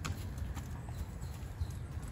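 Hooves of a ridden young horse clip-clop in a soft, steady rhythm on the ground during a training session, faint and fairly close, with no talk.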